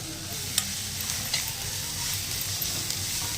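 Onions sizzling steadily in a hot pan while being cooked for coconut chutney, a close, even frying hiss with a few sharp pops and stirring clicks.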